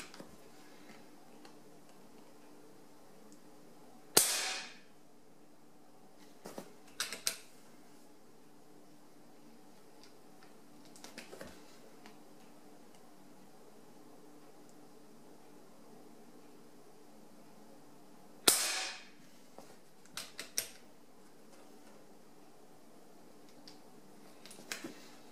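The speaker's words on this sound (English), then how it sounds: "You can tell the gun got a lot quieter on the lower power settings." Two sharp, quiet shots from an FX400 .22 air rifle on its low power setting, each a crisp snap followed by faint mechanical clicks of the action, spaced well apart against a hushed background.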